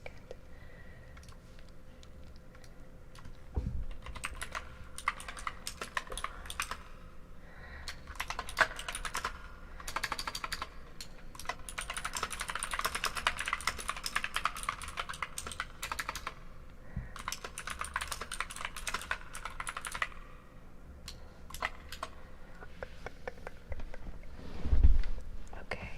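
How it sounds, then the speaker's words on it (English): Typing on a computer keyboard in an ASMR session: close, crisp key clicks come in uneven bursts and steady runs throughout, with short pauses and one louder thump near the end. "nice little keyboard ASMR"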